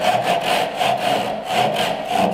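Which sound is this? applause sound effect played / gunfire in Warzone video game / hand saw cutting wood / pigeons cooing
hand saw cutting wood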